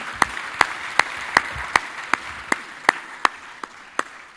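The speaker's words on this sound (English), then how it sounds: "A big round of applause for my panelists." Audience members at a panel session on African energy solutions applaud, with sharp, evenly spaced claps standing out over a softer bed of clapping.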